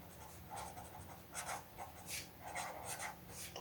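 Writing on a board during a genetics lesson, with repeated scratchy strokes in short bursts, fairly close and quiet, and no talking.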